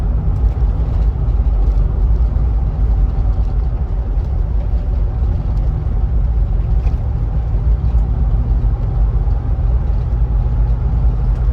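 A Land Rover Discovery 3 V8 runs at a steady low rumble throughout, with no misfire or hesitation and no voices over it.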